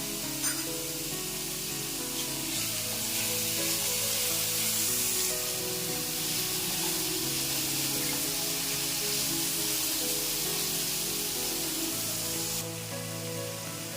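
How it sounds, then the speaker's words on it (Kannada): Ginger garlic paste sizzles in a hot oiled pan while cooking mushroom fried rice, a continuous crackling hiss that stays steady and close before easing slightly near the end, with no talking. "ಮತ್ತು ಈಗ ನಾನು ಶುಂಠಿ ಬೆಳ್ಳುಳ್ಳಿ ಪೇಸ್ಟನ್ನ ಸೇರಿಸ್ಕೊಡ್ತಾ ಇದ್ದೀನಿ"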